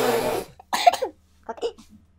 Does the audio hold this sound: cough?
yes